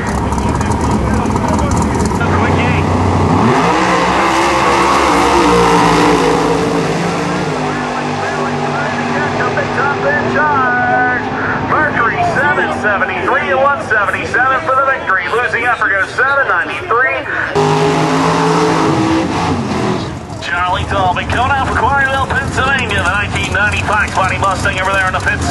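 A 1971 Mercury Comet drag racing at a Cecil strip, its loud engine roaring and rising through the run over a steady crowd-and-track din, with announcer talk throughout.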